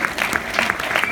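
An audience at a London Q&A applauds Josh Homme with dense, steady clapping from many hands, close and loud throughout the short stretch.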